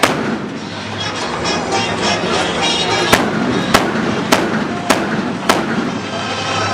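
Gunfire from the Thai-made D-Iron attack robot during a weapons demonstration, five sharp loud shots spaced roughly half a second apart over a continuous mechanical background rumble.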